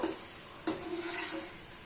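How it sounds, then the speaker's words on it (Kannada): Onions frying in a pan for flat beans baath, a steady close sizzle with a brief stir or scrape partway through, fairly quiet and with no talking. "ಈರುಳ್ಳಿ ಈ ರೀತಿ ಚೆನ್ನಾಗಿ ಫ್ರೈ ಮಾಡಬೇಕು."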